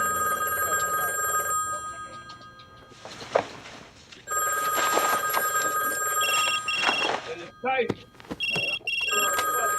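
An old-style telephone bell rings in repeated bursts with a bright, metallic trill, broken by pauses, while people talk in between and over it.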